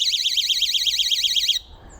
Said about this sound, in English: They are alarms. You deconnect it and it's beginning to make a very loud sound